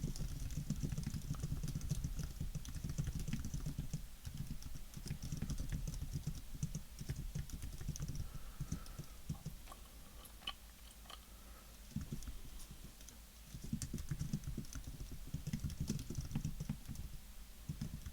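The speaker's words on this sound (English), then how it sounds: "Hopefully you guys like typing sounds." Steady keyboard typing, quiet and close, a fast patter of soft key clicks that runs through most of the stretch with brief pauses, with no one talking.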